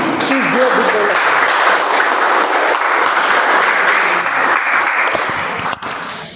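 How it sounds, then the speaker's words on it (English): A meeting audience gives a sustained round of applause for a speaker being invited up, dense steady clapping that fills the room and tapers slightly near the end, with a faint voice briefly audible early on. "Please give a big round of applause"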